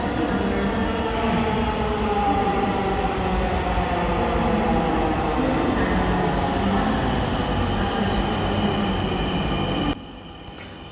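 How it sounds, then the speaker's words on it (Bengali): A crowded metro train rolls into the station with a loud, continuous rumble and a rising metallic squeal of wheels, then the noise drops sharply near the end. "এই যে আমাদের ট্রেন চলে আসছে।"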